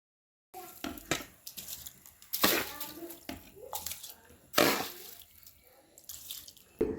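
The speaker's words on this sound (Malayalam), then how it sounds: "ഇനി ഇത് നന്നായിട്ടൊന്ന് കഴുകി വൃത്തിയാക്കിയിട്ട് വെള്ളത്തിലേക്ക് ചേർത്ത് കൊടുക്കാം" Rice for a fried chicken biriyani is rinsed in water and tipped into a pot, giving bursts of splashing and pouring with sloshing and trickling between them, close and fairly loud, with brief soft voice sounds.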